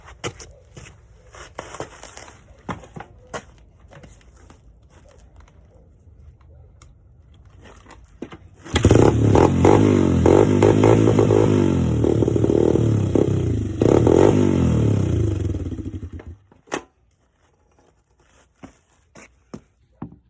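A dirt bike engine cranks and fires up, running loud and rough for several seconds before cutting out, with scattered clicks and handling noise before and after.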